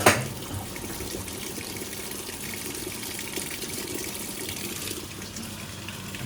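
Water gushes steadily into a Simpson Enduro 701 washing machine drum as it fills for a deep rinse during a normal warm wash, a continuous close rushing pour after a brief clunk at the start.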